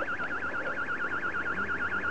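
A burglar alarm siren is received over an Eddystone EC10 radio, a fast warbling electronic wail repeating steadily, thin and steady over a faint background hiss.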